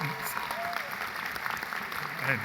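An audience at the opening ceremony of National Model United Nations in New York claps steadily throughout, a dense wash of applause with a few cheers and voices mixed in.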